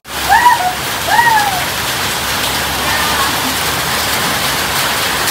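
Heavy rain pours in a dense, steady hiss that fills the whole stretch. A couple of short chirpy sounds rise over it early on.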